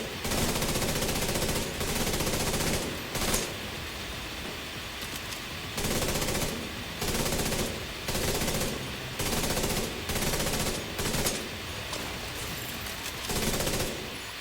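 A light machine gun in a video game fires in repeated long bursts separated by short pauses, loud and close throughout.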